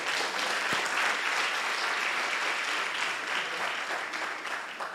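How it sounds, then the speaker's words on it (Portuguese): A church congregation gives sustained, even applause in praise of the Lord, a dense wash of hand claps that stays steady throughout and fades slightly toward the end. "Dê um aplauso ao Senhor"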